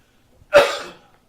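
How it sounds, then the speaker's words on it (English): One forceful, breathy cough during chest physiotherapy for congestion bursts out close by and trails off in under half a second, preceded by near silence. "take a deep breath in, cough."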